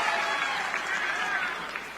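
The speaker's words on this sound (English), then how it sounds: "Give her a round of applause." Crowd at a live political event applauds, a broad sustained roar of clapping heard from a distance, fading slightly toward the end, with a voice faintly audible underneath.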